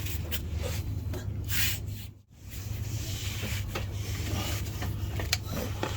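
Steady, close scraping and rubbing as a flathead screwdriver digs leftover gear oil out of the rear differential of a 2006 Dodge Ram 1500, continuous for several seconds with one brief pause.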